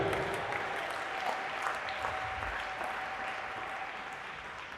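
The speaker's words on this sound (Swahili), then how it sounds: "Mpe Yesu makofi jioni ya leo." Congregation applauding during an evening church service, a dense, even, continuous clapping that fades slightly toward the end.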